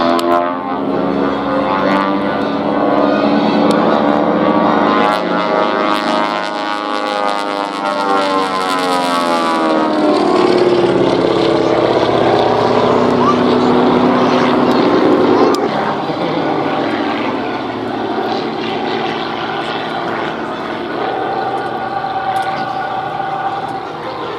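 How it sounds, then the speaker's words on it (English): A single-engine airshow aircraft at Oshkosh AirVenture, its one engine turning two propellers through a belt drive, gives a loud, steady droning roar whose pitch sweeps and shifts as it passes overhead. "It's a one engine that drives 2 propellers through a belt system."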